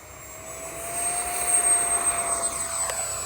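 A Freewing F-22 70mm electric ducted-fan RC jet takes off, its high whine swelling and sliding upward in pitch as it accelerates away, loud and steady, with no voices.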